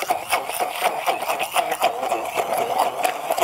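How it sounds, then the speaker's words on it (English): Frozen mango smoothie being ground in a blender, a continuous, close, rough motor whir with a pulsing, rattling texture that holds steady throughout. "we are grinding down, or we are chopping down this nice smoothie"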